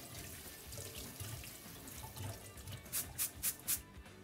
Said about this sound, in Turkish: Ben bunu akarsuda şöyle güzelce bir yıkıyorum.